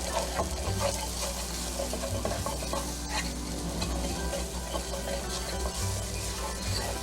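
Granulated garlic and onion being stirred into a hot pan for a shrimp, mushroom and spinach cream sauce, with a steady loud sizzle and continuous scraping stir throughout.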